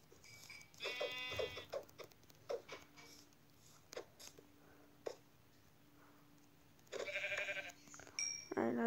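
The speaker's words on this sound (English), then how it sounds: "So let's get the sheep." Sheep in the video game Minecraft bleat in a few short, quavering calls at the start and again near the end, with game clicks and quiet stretches in between.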